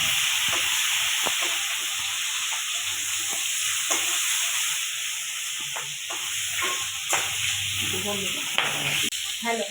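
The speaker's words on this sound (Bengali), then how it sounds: "এর মধ্যে কাঁচা লঙ্কা টমেটোটা আমি একসাথে দিয়ে দেবো" Tomatoes and green chilies fry in a pan with a steady, loud sizzle and hiss throughout, scattered spatula taps and scrapes on top, close up.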